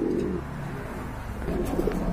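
Cooing from high-quality fancy pigeons at a seller's loft, a low throaty murmur running steadily through the moment, somewhat muffled with a faint background hum and no talking.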